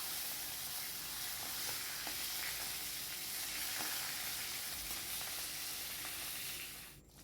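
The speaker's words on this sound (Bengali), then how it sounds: "এদিকে দেখো কড়াইতে তেলটাও গরম হয়ে গেছে, আমি মাছের মাথাটুকু দিয়ে দিলাম। এটা আগে ভালো করে ভেজে তুলে নেব।" A fish head frying in hot oil in a wok gives a faint, steady hissing sizzle that holds evenly for several seconds before fading at the end, with no voices.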